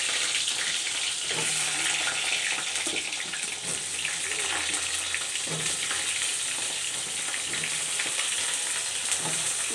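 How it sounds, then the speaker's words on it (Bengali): Pointed gourd pieces frying in oil, a continuous bright sizzle and crackle up close, with occasional soft stirring knocks throughout. "পটলটা এবার তেলে ছেড়ে দেবো।"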